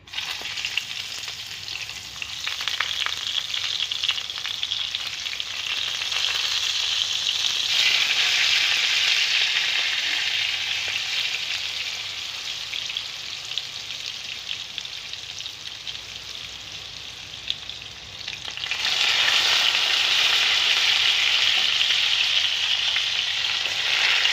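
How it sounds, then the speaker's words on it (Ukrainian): Steady, loud sizzling of eggplant slices frying in a hot pan, dipping slightly midway then swelling again, with no talking. "І сюди цю саму сковорідку будемо ложити баклажан. Сюди ж закладаємо баклажани."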